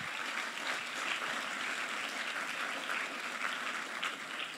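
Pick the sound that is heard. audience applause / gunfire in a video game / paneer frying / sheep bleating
audience applause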